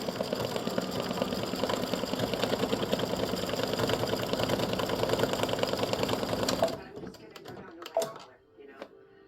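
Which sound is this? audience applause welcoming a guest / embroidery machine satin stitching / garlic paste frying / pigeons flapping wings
embroidery machine satin stitching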